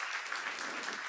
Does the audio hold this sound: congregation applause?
yes